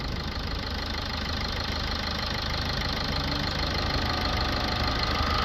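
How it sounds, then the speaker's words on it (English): A Toyota Auris 1.4 D4D diesel engine with a blocked DPF idles steadily and close, a low continuous rumble with a faint diesel knock and no talking. "Engine sounds nice on this."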